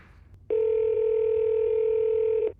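A telephone call rings out over speakerphone, a single steady unbroken tone held loud for about two seconds, with no talking.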